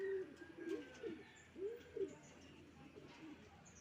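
A bird coos in a short series of low, rolling calls, fairly close, over faint background hiss.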